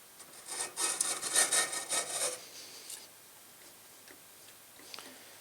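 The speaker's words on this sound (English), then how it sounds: "the groove is deep enough so that the hacksaw blade won't hop out of it" Hacksaw blade scoring a groove in a window screen frame: a quick run of short rasping back-and-forth strokes, close and clear, then fading to faint scattered ticks.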